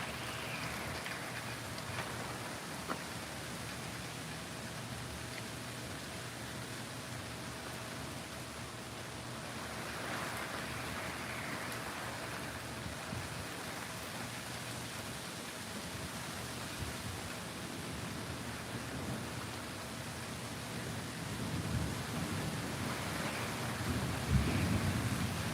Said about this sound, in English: Another stormy night